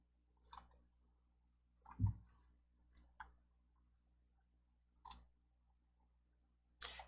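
Computer mouse clicks in a quiet room, several sharp isolated clicks spaced a second or two apart over a faint low hum, with no voice.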